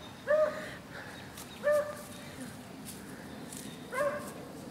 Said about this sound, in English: That would be the sound of my dog alarm called my dogs.